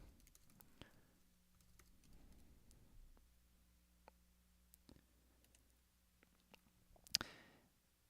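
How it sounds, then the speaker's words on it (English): Typing on a computer keyboard to enter text in a chat, a faint, irregular patter of soft key clicks with a low background hum and a sharper clatter near the end. "Let me see if I can type it for you in the chat."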